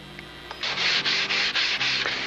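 Steel wool rubs briskly back and forth across a surface in about seven even, close, loud scratchy strokes with a short pause between each.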